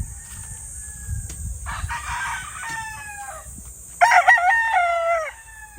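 Gamefowl stags crow at a farm, one fairly near call and a louder, closer crow following a couple of seconds later, with other crowing faintly in the background and a low rumble underneath.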